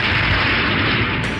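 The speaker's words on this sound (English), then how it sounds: "We found this sonic boom online." A sonic boom carries as a loud, sustained deep rumbling roar with heavy low-end energy, holding steady for the whole stretch without a sharp crack or clear start and end.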